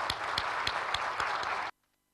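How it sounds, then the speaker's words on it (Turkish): Audience applause at a Malatya event, a short burst of clapping with a few sharper claps standing out, ending abruptly into silence. "tüm Malatya insanımızı, halkımızı alkışlamak istiyorum."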